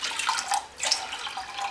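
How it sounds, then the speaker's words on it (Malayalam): Water is poured into a pressure cooker holding lentils for dal fry, a steady splashing and trickling stream close by, moderately quiet, with no talk. "പരിപ്പെടുത്ത അതേ കപ്പിന് തന്നെ ഒരു 3 കപ്പ് വെള്ളം ഒഴിച്ചു കൊടുക്കാം"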